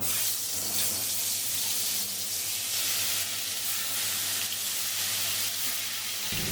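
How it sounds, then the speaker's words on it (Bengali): Taki fish frying in hot oil in a wok, a dense continuous hiss and sizzle, close and loud throughout, with no voices. "কড়াই গরম হয়ে গেছে দিয়ে দেবো তেল তেল গরম হয়ে গেছে মাছগুলো দিয়ে দেবো"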